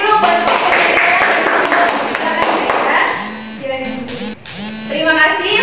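Students in a classroom clap for classmates who just presented in a civics microteaching lesson, a quick burst of hands that fades as voices and chatter take over.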